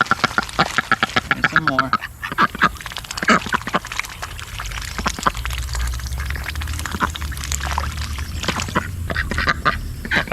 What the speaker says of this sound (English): these are wild ducks, and they will not let anyone else get this close to them besides me and my wife